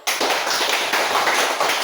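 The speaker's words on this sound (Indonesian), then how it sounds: "Tepuk tangan dulu." A school class claps hands in applause, giving a short burst of dense, close, even clapping that lasts under two seconds with no voices.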